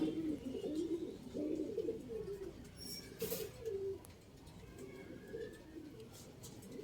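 Bazai pigeons coo in soft, low repeated calls close by, the murmuring coos recurring in uneven bursts over faint background noise.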